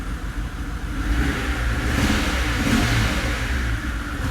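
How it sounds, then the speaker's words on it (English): A Mercedes-AMG twin-turbo V12 runs rough with a misfire, a steady, uneven engine drone swelling slightly in the middle, close and loud with no talk over it. "It's definitely misfiring."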